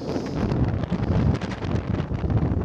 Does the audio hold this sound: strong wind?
yes